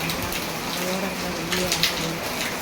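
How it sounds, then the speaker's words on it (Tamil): Steady wind roars with drizzle during a storm, a constant broadband hiss with faint patter, while someone talks quietly over it. "இந்த தூரலோடவே காற்று அடிக்குது"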